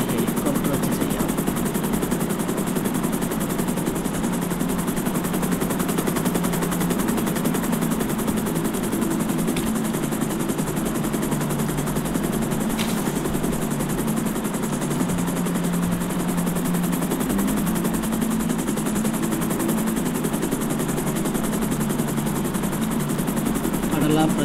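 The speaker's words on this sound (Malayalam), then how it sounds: "നമുക്ക് അവിടെ ഹെലികോപ്റ്റർ വെച്ച് ചെയ്യാം." Helicopter in the video game GTA 5 gives a steady, loud rotor and engine drone throughout, with possible gunfire bursts mixed in and a voice talking over it.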